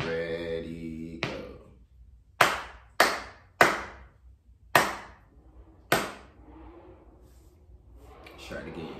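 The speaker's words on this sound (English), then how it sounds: "Let's see if you can clap the rhythm that I clap." A teacher's voice briefly precedes a rhythm of six sharp hand claps, close and crisp, with uneven spacing and short pauses between them, before talking resumes faintly at the end.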